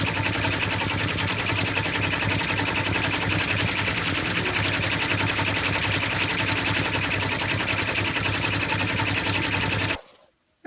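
Embroidery machine stitching out a design with a satin border, a loud, dense, continuous mechanical chatter of rapid needle strokes that holds steady before stopping abruptly near the end.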